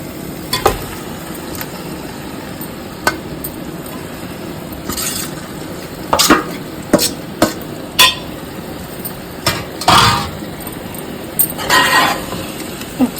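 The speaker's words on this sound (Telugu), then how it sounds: "ఇప్పుడు మనం మసాలా కలిపి పెట్టుకున్న అరటికాయ ముక్కలు వేసుకుందాం" A spoon stirs raw banana pieces into fried masala in a pan for a banana curry, with a soft background sizzle broken by irregular scraping strokes and sharp clinks against the metal.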